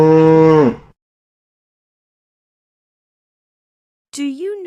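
A cow gives a single loud, clear moo lasting under a second, followed by near silence, then a short lowing call begins at the end.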